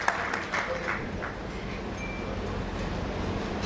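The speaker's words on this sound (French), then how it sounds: "on va raccompagner Madame Moulou par des applaudissements, encore une fois" Applause at an award ceremony, a broad wash of distant crowd clapping in a large reverberant room, muffled and steady with a low rumbling background.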